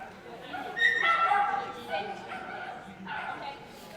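Shetland sheepdog running an agility course at team tryouts, giving a few quick yips and whimpery barks amid a busy arena with people talking over it.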